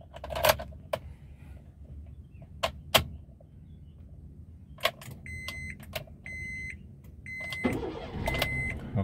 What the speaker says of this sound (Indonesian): sekarang kita hidupkan mesinnya ya